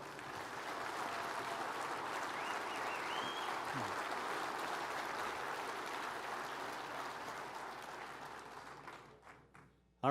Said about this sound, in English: How about one more round of applause for her?